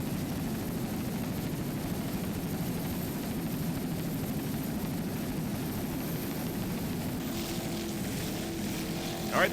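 A 24-foot Corsa powerboat with a single 500-horsepower Mercury inboard races offshore, giving a steady, dense engine drone mixed with wind and water noise. A brief higher whine rises near the end.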